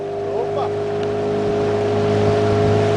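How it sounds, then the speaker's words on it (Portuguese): A motorboat engine drones steadily and close on the way to the Cachoeira do Salto Botelho waterfall, a constant low hum that does not change. "É do motor, do Xuxa. Aquele barco do Xuxa"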